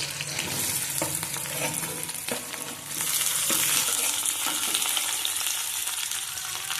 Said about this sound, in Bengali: ভাজা করে দিয়ে দিচ্ছি কেটে রাখা পেঁয়াজ